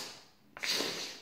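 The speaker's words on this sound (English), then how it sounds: "Give it a good old sniff." A sharp nasal sniff of powdered snuff drawn up from a snuff paddle held to the nose, one quick intake followed by a longer breathy draw, close and fairly quiet with no talking.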